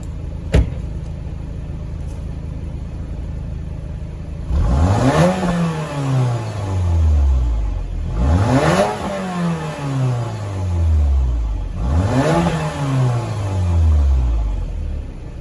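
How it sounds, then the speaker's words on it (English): A Porsche Macan's twin-turbo engine revs three times, each burst climbing sharply then sinking back to idle, loud and close, with a steady idle hum between the pulls and no talking. "let's give it some revs."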